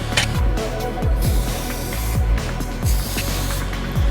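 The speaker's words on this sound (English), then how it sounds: "spray 3 to 4 coats of the clear coat, waiting 10 minutes between coats" A spray can lays clear coat onto a plastic car bumper in a steady hiss, with short sweeping bursts repeating throughout.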